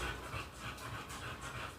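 A dog just getting up from a late sleep pants in quick, steady breaths close by, with no voices over it.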